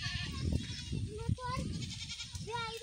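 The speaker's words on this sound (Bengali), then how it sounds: "সে ছাগল নিয়ে চলে আসছে" A goat bleats during rain, several wavering calls close by, with someone talking and rain patter in the background.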